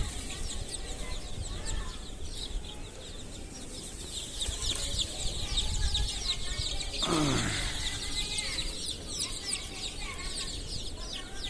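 Chickens cluck and chirp continuously in the background on a small poultry farm, several birds close by with a brief louder squawk midway.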